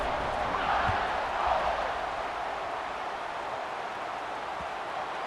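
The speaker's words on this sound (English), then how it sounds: "this crowd is feeling themselves after that last drive" Stadium crowd in the NCAA 26 college football game, a steady broad roar of cheering that swells briefly early on, then holds level as constant background.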